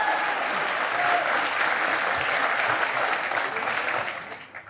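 A studio audience applauds at a television talk show, with sustained dense clapping that fades out near the end.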